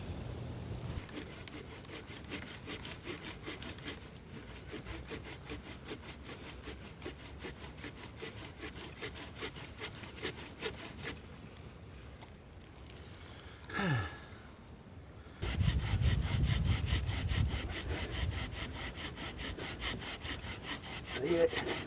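A blade sawing wood at a campsite while a stool is being built, heard as quiet, steady back-and-forth rasping strokes in a fast rhythm, close by, with brief pauses and a louder rustling stretch near the end.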